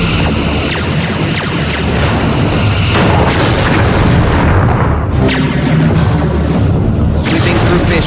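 Torpedo launches and explosions in the space combat game Star Trek Bridge Commander: dense, continuous booming rumble with repeated blasts layered together, loud throughout, with voices mixed into the din.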